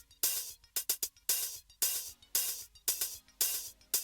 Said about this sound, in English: There's two separate hi-hat parts panned to the left and right.